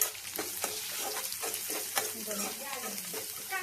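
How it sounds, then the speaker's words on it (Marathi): Peanuts, onion and green chili fry in a pan for poha, giving a soft continuous sizzle broken by rhythmic stirring scrapes, close by and fairly quiet. "शेंगदाणे, कांदा आणि मिरची, शेंगदाणे थोडेसे भाजते त्याच्यात."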